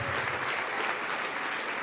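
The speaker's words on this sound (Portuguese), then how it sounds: "Vamos dar uma salva de palmas para Jesus." A church congregation claps during a sermon, a brief burst of steady, evenly spread applause.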